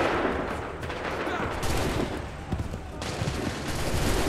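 A musket volley cracks out in the Assassin's Creed III video game, a ragged burst of overlapping shots followed by smaller scattered reports and a rumbling tail, with battlefield noise behind.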